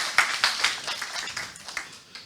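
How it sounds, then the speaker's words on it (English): An audience at a conference event applauds after a presentation, a thin patter of claps near and far with a few sharper individual slaps, tapering off over two seconds. "A big applause."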